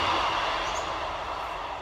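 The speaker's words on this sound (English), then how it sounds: "Get that train to go past." A train rushing past an allotment garden, a loud, steady, close rumbling roar of rail wagons with a faint high squeal riding on top, no voices.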